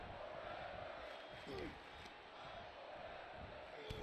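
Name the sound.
wrestling crowd cheering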